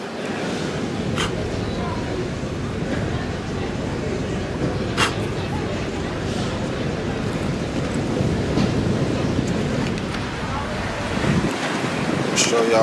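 Ocean waves wash steadily onto a beach in Puerto Rico, a continuous broad surf roar mixed with gusty wind buffeting the microphone, close and fairly loud throughout.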